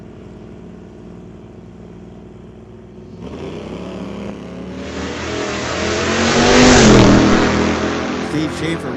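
A 1969 Pontiac Firebird drag car launches at a street-legal drag night at Mission Raceway Park, its engine roaring louder as it accelerates down the strip, then fading slightly into the distance.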